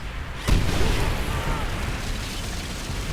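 A sudden loud boom from a bunker exploding in the game Call of Duty: World at War bursts out, then a rumbling, crackling tail fades under ongoing background noise.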